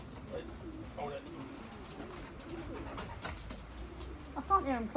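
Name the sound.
racing pigeons cooing at the loft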